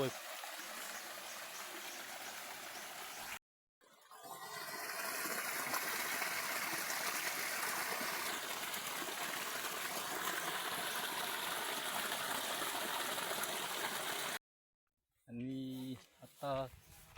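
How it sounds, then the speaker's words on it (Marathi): A waterfall's roaring rush in rainy Konkan plays steadily for several seconds between brief cuts, broad and continuous, with a voice heard briefly near the end. "आम्ही धबधब्या आलो चालू बघू शकता इकडे आणि हा असा जगातील सर्वात मोठा धबधबा"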